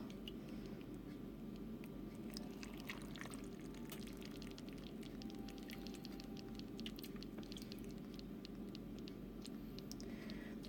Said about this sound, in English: Add some of the broth.